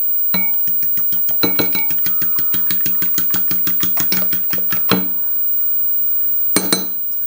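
Eggs with salt are whisked briskly in a bowl, a rapid run of close, regular clinking beats against the bowl that stops, then returns briefly in a short burst.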